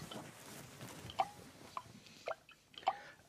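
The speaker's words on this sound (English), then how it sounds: "So this is where the plip, plop, drip, drop sound is coming from." Rainwater drips through a hole in a roof, a few distinct plinks spaced irregularly against a quiet, faintly hissing background.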